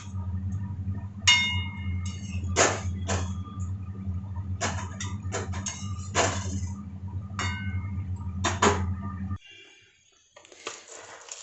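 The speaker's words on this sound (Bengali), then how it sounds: "বাটি ধুয়ে একটু জল অ্যাড করে দিচ্ছি।" A bowl is rinsed and water added while cooking a soybean recipe at home: clinking of the bowl against hard surfaces over a low hum of running water, ending with a brief quieter splash.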